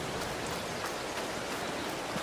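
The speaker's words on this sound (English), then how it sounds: "let's see after the rain stops." Rain in Farming Simulator 22 hisses as a soft, steady wash of drops, faint and even throughout the short stretch with no other sounds.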